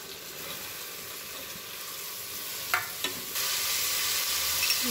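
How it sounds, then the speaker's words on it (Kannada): Mushroom biryani masala frying in a pan, a steady close sizzle throughout with a couple of brief clinks near the end before the frying grows slightly louder. "ಇವಾಗ ಇದು ಸ್ವಲ್ಪ ಫ್ರೈ ಆಗೋವರೆಗೆ ವೇಟ್ ಮಾಡೋಣ"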